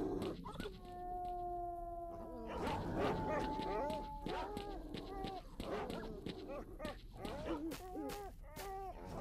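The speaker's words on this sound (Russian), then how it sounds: "Бляха, собаки." Mutant dogs in S.T.A.L.K.E.R. Shadow of Chernobyl, several howling in long wavering tones, then whimpering, yelping and running through the undergrowth, near and fairly loud amid game ambience, with someone talking over them.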